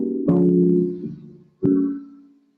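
Two sustained piano block chords from a jazz standard ring out one after another, each struck firmly and left to decay, played alone in a quiet room.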